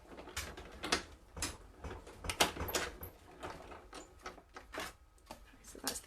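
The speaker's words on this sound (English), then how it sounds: "I'm just going to wheel that through my Stampin' Cut and Emboss machine" Circle die run through a Stampin' Cut and Emboss machine, a hand-cranked roller press, giving a series of irregular clicking, ratcheting and rolling bursts close by over several seconds.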